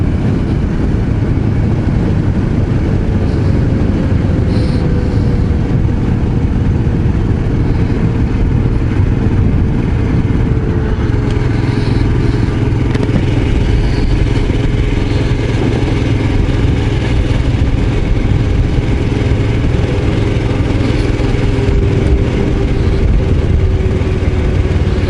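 A Royal Enfield Scram 411 motorcycle being ridden, with a loud, steady engine drone and wind rush, and engine tone slowly shifting, continuous throughout.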